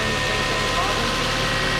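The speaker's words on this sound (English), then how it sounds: "Rev her up a little bit, let her charge." A Lexus GS300 with a dead alternator runs with a steady, close engine drone that holds even throughout, without clear rises in pitch.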